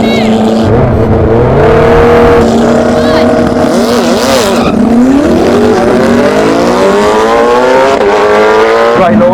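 A Koenigsegg Jesko hypercar and a tuned Suzuki Hayabusa motorcycle accelerate hard in a drag race, engines rising through rapid gear changes in loud, close rising whines, with a voice talking over the roar.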